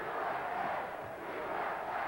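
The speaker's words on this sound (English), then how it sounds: "They're shouting USA, USA." A capacity wrestling crowd at the Showboat arena chants a steady, loud 'USA' in unison, the massed voices filling the hall without a break.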